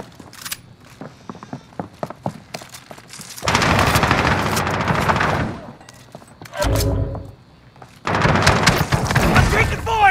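Call of Duty Warzone gunfire on Rebirth Island: a rapid string of sharp shots gives way to sustained heavy bursts and thuds, broken by a short pause, with in-game voices mixed in.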